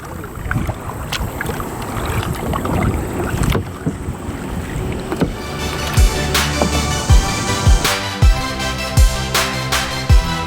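A canoe moves across water with wind noise and soft splashes, followed by a run of regular, sharp paddle strokes and knocks close to the microphone.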